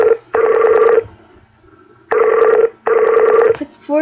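A telephone rings loudly and close in three long bursts with pauses between them. A short voiced sound follows at the end.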